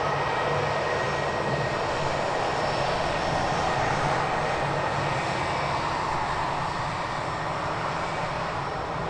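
An easyJet Airbus A320 departs Edinburgh for Heraklion with a sustained, steady jet engine roar, moderately loud and continuous, with no voices.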